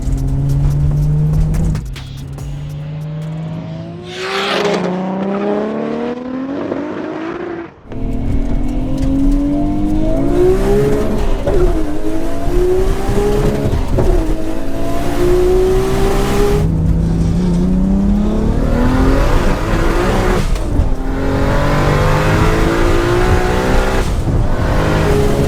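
An 800bhp Nissan R34 GTR and a 900bhp Toyota Supra accelerate hard from a rolling start in a drag race. Loud, close engine roars climb in pitch through repeated gear shifts, with a brief drop near the start.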